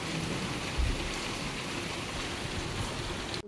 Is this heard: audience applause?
no